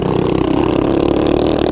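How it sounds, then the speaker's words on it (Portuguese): Small motorbike engine revs steadily and loudly at close range on a farm property, a continuous buzzing drone with no talk over it. "A motinha dele tá mais forte que a minha, você acredita?"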